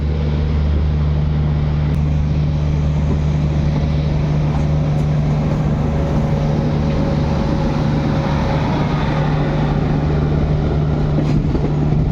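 The Garib Rath Express running from Yesvantpur toward Secunderabad, a steady, loud rumbling drone along the track, continuous and unbroken with a low hum throughout.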